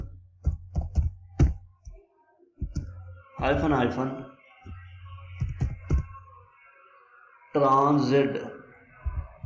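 Keystrokes on a computer keyboard as a command is typed into a terminal, coming in short bursts of clicks between stretches of someone talking.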